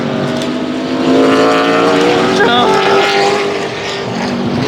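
A GTP Cadillac race car at Road Atlanta roars past close by, its engine note swelling loud and shifting pitch as it goes by. A voice can be heard briefly over the engine.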